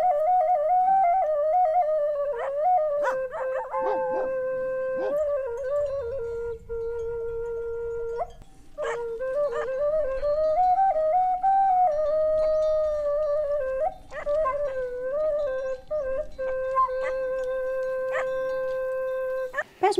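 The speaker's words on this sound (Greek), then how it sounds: "Έχω τα σκυλιά που ακολουθάνε τα πρόβατα, φυλάνε τα πρόβατα." A Greek mountain shepherd's sheepdogs howl and whine in long, wavering, pitch-sliding cries with brief yips, continuous and fairly close for the whole stretch, with no talk over them.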